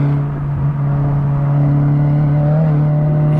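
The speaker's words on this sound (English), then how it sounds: "you can hear the revs, like, peak for a second" A race car engine holds a steady, loud drone through a corner, its revs briefly peaking as the inside tire lifts over a kerb with an open differential.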